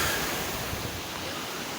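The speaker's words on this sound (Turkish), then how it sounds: "Burada biraz da olsa yayılmış olarak akan Fol Deresi'ni görüyoruz." Fol Creek spreads out and flows near Canikdere waterfall in Tonya, Trabzon, a steady broadband rush of water with some wind buffeting, close and continuous with no talking.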